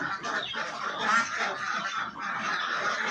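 A flock of around 250 farm ducks quacking and honking in a dense, continuous chorus at feeding time, loud and close with no talk over it.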